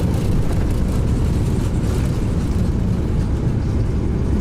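PMDG Boeing 777-200ER in British Airways livery, simulated in Microsoft Flight Simulator 2024, with thrust reversers deployed on the landing rollout: a loud, steady, broadband roar that holds unbroken from start to finish.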